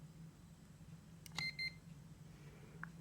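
A TIS Rhino smart multimeter beeping as it measures voltage: two short, faint electronic beeps close together, then a single softer chirp a moment later, over quiet room hum.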